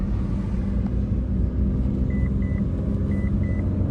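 A 2007 Mitsubishi Galant with a 6G75 engine and polyurethane motor mounts roars in a loud, steady low engine rumble as it accelerates, with a few faint beeps in the background.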